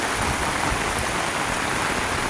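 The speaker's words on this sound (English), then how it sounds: "But I'm absolutely loving this rain." Heavy rain pours down in a garden, a loud, steady hiss of drops beating on surfaces, close and unbroken throughout.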